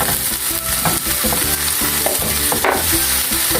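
Chopped pork sizzles loudly as it is stir-fried with tomatoes, garlic and onions for pinakbet, a steady close frying hiss with rhythmic scraping and clinks of the stirring utensil throughout.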